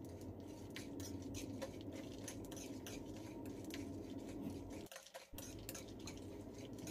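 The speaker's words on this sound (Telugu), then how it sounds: "ఇవన్నీ కూడా కొంతసేపు ఇలాగా వేయించుకోవాలి." Sesame seeds and spices are dry-roasted in a pan, giving a soft, steady sizzle and patter with faint scrapes and light clinks of a stirring spoon close by.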